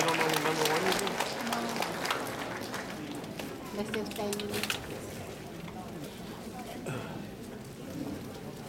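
Audience applause at a Loy Krathong 2010 pageant at Wat Dhammaram in Chicago, a dense patter of clapping that gradually thins out while voices talk over it.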